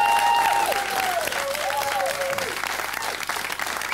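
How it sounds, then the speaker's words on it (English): Studio audience applause fills a radio talk show, loud and sustained throughout with dense clapping, while a faint whistling tone wavers over the top. "OK, give them a nice round of applause."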